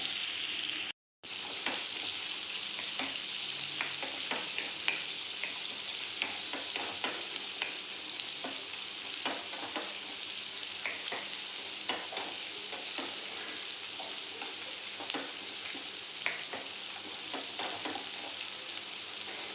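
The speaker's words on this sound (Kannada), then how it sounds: "1 ಈರುಳ್ಳಿ ಕಟ್ ಮಾಡಿ ಹಾಕಿದ್ದೀನಿ ಇದಕ್ಕೆ." Chopped onion sizzles steadily in a hot pan for drumstick-leaf sambar, with a constant frying hiss and occasional scraping stirs, close and fairly quiet, with a short dropout near the start.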